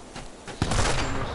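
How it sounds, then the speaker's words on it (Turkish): Video game gunfire in a sniper match, a sudden loud burst of shots after a quieter stretch, continuing as a sustained rattle to the end. "Bak sıkıyor."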